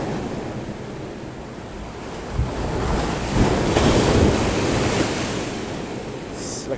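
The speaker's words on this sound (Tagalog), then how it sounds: "Medyo malakas lang talaga ang alon, ano?" Strong ocean waves surge and wash continuously around a small fishing boat at sea in stormy conditions, with heavy wind buffeting the microphone and a louder swell rising midway.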